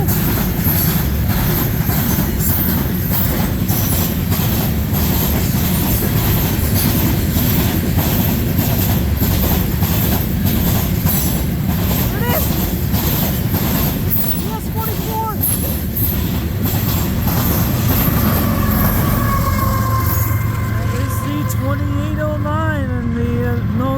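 CN freight train S763, led by locomotive 3402 with a rear DPU, rolls past at Ladysmith, Wisconsin in winter, a steady loud rumble and clatter of cars with squealing wheels rising near the end.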